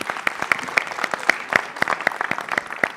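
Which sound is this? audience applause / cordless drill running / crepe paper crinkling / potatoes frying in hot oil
audience applause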